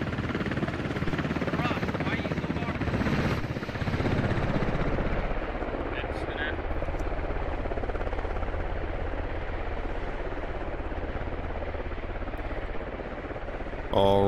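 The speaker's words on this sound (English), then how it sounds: "Looks like the heli is going to be out of range to be effectively engaged." A helicopter in the military shooter game Squad drones steadily and loudly throughout, with a few scattered bursts of gunfire and a voice talking over it.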